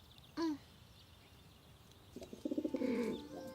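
A pigeon coos softly in a short rolling burst after a brief, sharper call, fairly close in a quiet space.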